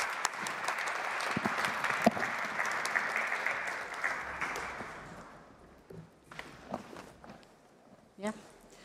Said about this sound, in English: please give a, a round of applause for our panelists while they, while they exit